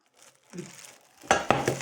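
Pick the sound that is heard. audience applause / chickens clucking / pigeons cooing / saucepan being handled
saucepan being handled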